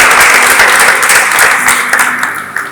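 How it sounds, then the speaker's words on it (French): Audience applause fills a church during a Christian service, a dense steady burst of clapping that stays loud and gradually tapers off toward the end. "Applaudissons pour Ryan."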